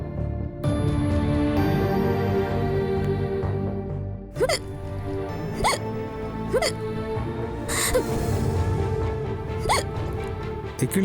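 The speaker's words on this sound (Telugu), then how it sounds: "ఎక్కిళ్ళు ఇంకా వస్తున్నాయా?" Repeated sharp hiccups, roughly five spaced a second or two apart, sound close by over a steady background hum in a home scene from a Telugu TV serial, after someone has been eating and drinking water.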